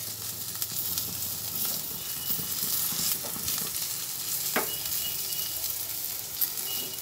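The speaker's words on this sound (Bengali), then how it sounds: "ভালোভাবে নাড়াচাড়া করে ভেজে নিচ্ছি।" Drumstick flowers with salt and turmeric stir-frying in a pan give a continuous soft sizzle, with occasional scrapes and taps of a spatula as they are turned, no talking over it.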